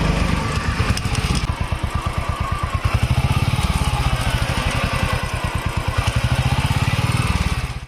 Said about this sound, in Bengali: মানে চেন খুব প্রবলেম দেখা যাচ্ছে, প্রচণ্ড শব্দ বের হচ্ছে।